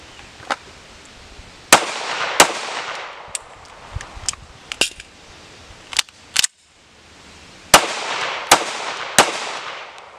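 Pistol shots during a low-round-count practice drill to slide lock, about a dozen sharp cracks fired in irregular clusters, close and loud, with mechanical clicks between and no talk.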